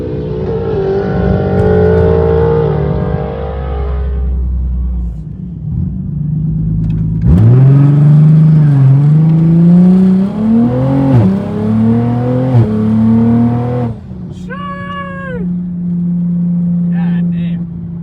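A Toyota Supra making 1000 wheel horsepower launches and accelerates, heard from inside the car. The engine drones loudly, then roars up through rising revs with gear-change dips, and a voice speaks briefly near the end.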